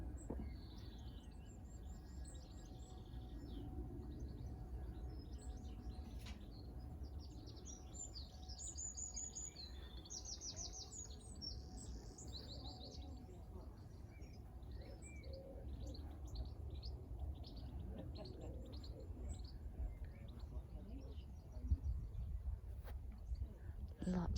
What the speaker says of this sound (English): The birds twittering